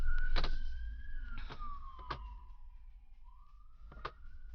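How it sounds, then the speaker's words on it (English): A police siren wails outside, muffled through closed windows, its pitch sliding up and down while a low hum and several sharp knocks sound nearer indoors. "there's going to be a siren"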